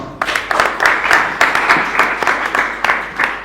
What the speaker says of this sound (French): Et cela mérite bien des applaudissements.